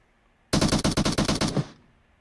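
A single automatic burst of gunfire in PUBG Mobile lasts about a second, with roughly ten rapid loud shots and a short tail fading afterward.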